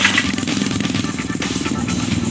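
The small engine of a Ski-Z motorized ski pusher runs outdoors in snow, a loud, rapid, buzzing putter with a pulsing rhythm that carries on steadily with no voices.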